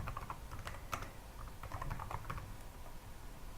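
Steady clicking of computer keyboard keys as a search query is typed, a quick irregular run of close, crisp keystrokes over a low background hum.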